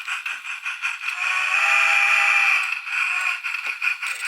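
A loud, steady steam whistle on a Mantua 2-6-6-2 logging model locomotive blows for several seconds, a bright hissing tone that wavers slightly before cutting off, close and without any talking; the whistle has a fault.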